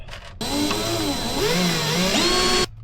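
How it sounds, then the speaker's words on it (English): A power drill bores a hole in an aluminium boat deck, a loud, close whine that starts abruptly and holds steady for about two seconds, its pitch wavering as the bit bites the metal, then cuts off. "I'll see if I can drill a hole."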